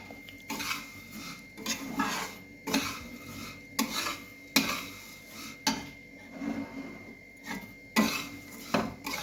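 Vermicelli with cardamom is roasted on low heat in a pan for kheer, a spoon scraping and rasping in regular strokes about once a second, close and clear with no talk.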